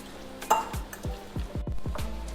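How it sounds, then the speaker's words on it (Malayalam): A spoon stirs avocado guacamole dip with added lemon juice in a bowl, making about eight quick, wet, scraping strokes in a steady rhythm, close and fairly soft. "ഇതൊന്ന് മിക്സ് ചെയ്ത് കൊടുക്കാം."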